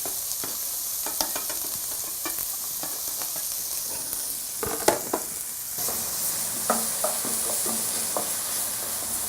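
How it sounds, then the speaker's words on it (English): Onions sautéing in a pan as the base for a sweet potato and okra masala, a steady broadband sizzle with scattered stirring clicks and scrapes, close and continuous with no talk. "you can see our onions now, they're sauteing"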